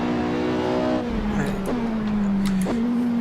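A Porsche 918 in the Assetto Corsa racing game revs hard under acceleration, the engine note climbing then dropping at two quick gear shifts and rising again, loud and continuous with no talk.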